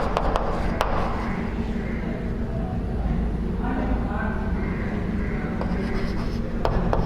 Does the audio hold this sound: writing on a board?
yes